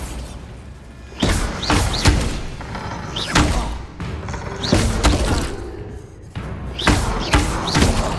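Bombarda blasting spells hit their targets in Hogwarts Legacy, landing as a series of heavy booming thuds with crashing debris, several impacts in a few seconds, loud and close amid game combat noise.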